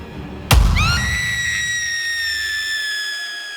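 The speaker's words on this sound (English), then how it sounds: "Hearing the shrieking cry from the old woman, Saoirse clutched her chest, unable to bear" An old woman gives a piercing shriek, opening with a sudden loud bang-like onset and sliding up into a sustained, high, wavering cry that slowly fades over a few seconds.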